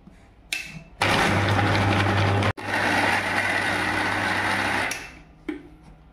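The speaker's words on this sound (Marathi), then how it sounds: "मोदकांचं सारण बनवायला लागणारे खोबरं आहे, त्याला मी आता बारीक करून घेते" Fresh coconut being ground fine in a mixer grinder for a modak filling: a loud, steady motor whir runs for about four seconds with a brief stop in the middle, then cuts off.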